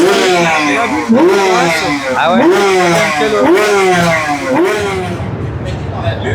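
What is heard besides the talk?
motorcycle on a warm-up lap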